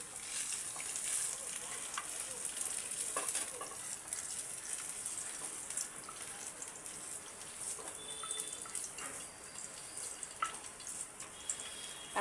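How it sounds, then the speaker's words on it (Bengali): Paneer cubes frying in a pan until reddish-brown give a faint, continuous crackling sizzle with scattered small pops and a few utensil clicks, heard alone at low level. "এই যে ঠিক এইভাবে একদম এরকম একটু বেশ লাল লাল করে কিন্তু এগুলো পনিরগুলো ভেজে নেবেন"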